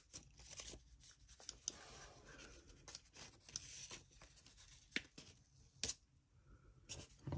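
Plastic packaging for a new Apple iMac mouse is peeled and handled, giving a string of sharp crinkles, rips and scratchy rustles in short irregular bursts, close up and with no talk.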